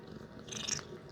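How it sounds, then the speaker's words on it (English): A cat purrs softly and close by in a quiet indoor room, a faint low steady rumble with no talking over it. "Little purr. I don't know if you can hear that. She's purring."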